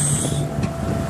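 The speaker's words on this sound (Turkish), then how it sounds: "tatlı bir rüzgar var." Wind rushes steadily across the microphone over a low hum from a sailboat at sea off Bozburun, Turkey, near Symi, with no voices.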